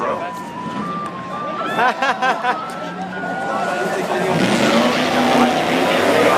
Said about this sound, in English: the nitrous oxide injected 360 cubic inch powered ice cream truck